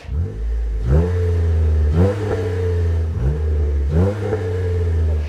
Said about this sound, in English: This system is going to give you that lower exhaust note and a louder exhaust note